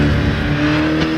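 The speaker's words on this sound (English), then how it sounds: "we're in the Craig Lowndes V8 Holden VF Commodore" A Holden VF Commodore V8 race car in the Assetto Corsa sim at Bathurst drones loudly and steadily, a dense, close engine roar held at high revs for just over a second with no speech.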